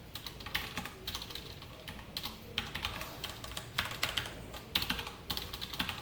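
Steady fast typing on a computer keyboard while writing HTML code, close and continuous with irregular key clatter bursts and no talking.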